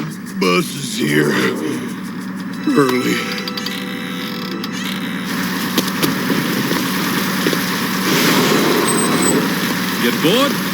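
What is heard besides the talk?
bus engine idling as the bus arrives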